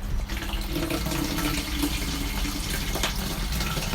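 Tap water runs steadily into a narrowboat's portable toilet cassette to rinse it, a continuous close-up hiss and splash with no talk.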